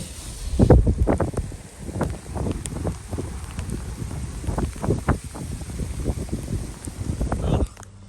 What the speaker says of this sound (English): So another wet and windy morning in Norway